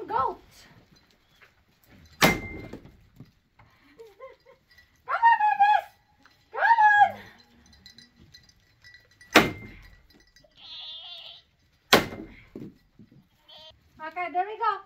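Goats at a piñata gathering give several loud, wavering bleats at irregular intervals, broken up by sharp knocks and cracks, while a person calls to them now and then.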